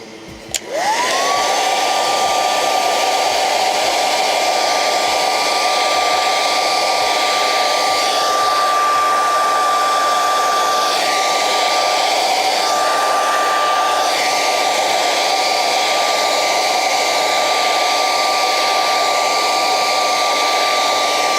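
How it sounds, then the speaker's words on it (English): A hair dryer runs loud and steady in a puppet-building workshop, switching on at the start and holding a constant whooshing hum with a high whine for the whole stretch, with no voices. "All right, hair dryer time."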